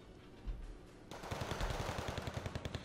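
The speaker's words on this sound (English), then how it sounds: "They got motos firing at long range with the machine guns." Machine gun fire in the strategy video game Wargame Red Dragon, soldiers shooting from long range: a muffled thump, then a dense rapid stream of bursts rattling on continuously, fairly quiet overall.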